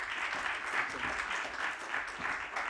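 Sustained audience applause fills a hall at a forum talk as a speaker is welcomed to the stage, a dense steady wash of many hands clapping at an even level with no voices over it.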